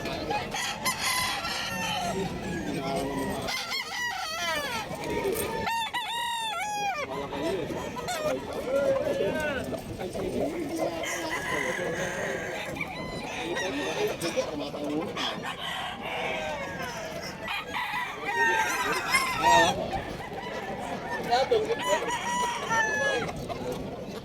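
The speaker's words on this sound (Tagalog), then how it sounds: "Maraming manok." Crowds of chickens at a pet market in Bocaue, Bulacan, clucking steadily while roosters crow repeatedly near and far, with people talking and market bustle throughout.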